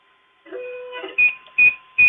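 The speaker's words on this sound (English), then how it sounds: "and it beeps" A Cetus 3D printer beeping during calibration: a tonal chirp, then three short, loud, evenly spaced beeps, clean and close with no talk.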